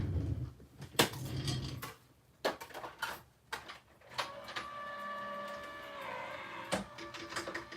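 Crafting machine feeding a stamped card through: clicks and clunks start it, then a whirring motor hums with a steady tone, faint and close.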